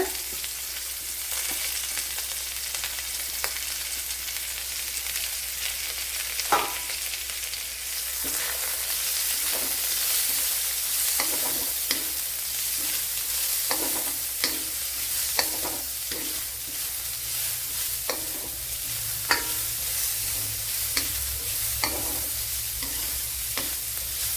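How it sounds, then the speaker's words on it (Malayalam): Chopped onion sizzles and fries in a pan for a beetroot and drumstick curry, with steady loud crackling broken by repeated scraping stirs throughout. "വലിയൊരു സവാള ഇതുപോലെ അരിഞ്ഞെടുത്തിട്ടുണ്ട് അത് ഇട്ട് കൊടുക്കുക"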